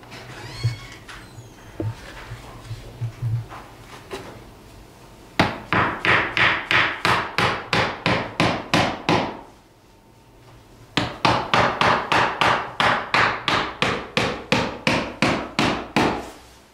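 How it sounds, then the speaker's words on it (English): A hammer nails off a window frame during a window installation. Two long runs of sharp, evenly spaced blows sound close and loud, with a brief pause between them and quieter handling noises before. "Now that we're done nailing off the window"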